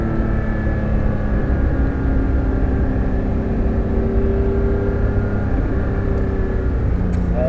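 A Porsche 911 GT3 RS engine pulls hard on the Nogaro circuit, a loud, sustained in-car roar that climbs steadily in pitch under acceleration, with no voices over it.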